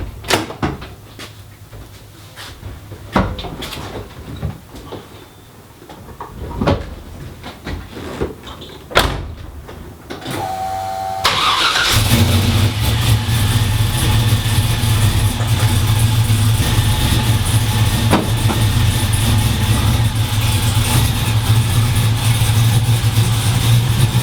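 A few thuds and a door closing in a garage, then a car engine turns over and settles into a loud, steady idle that drones on to the end.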